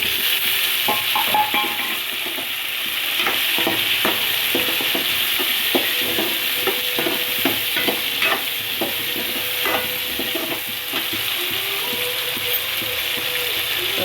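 Onion and tomato with a little salt sautéing in a pan, a steady sizzle broken by repeated clicking scrapes of a spoon stirring against the pan, close and fairly loud.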